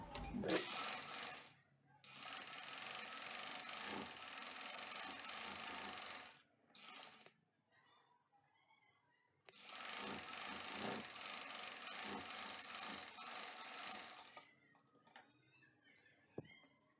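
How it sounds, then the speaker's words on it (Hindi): A sewing machine stitches cloth for a baby top in two runs of several seconds each, a close, fast, even whirring with a rattle, separated by a quiet pause with faint handling of fabric. "जहाँ निशान लगाया वहाँ से लेंगे कपड़े को और इस तरह सिलाई लगाएंगे।"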